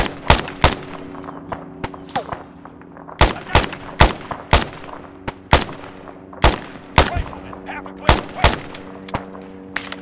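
Gunfire in Arma 3: sharp, loud rifle shots crack singly and in quick pairs at irregular intervals across a distant battlefield, over a low steady hum.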